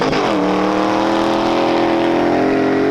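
An off-road car with a professional driver powers across desert dunes, its engine loud and close with a sustained, steady roar after a brief rising rev at the start, and no talk over it.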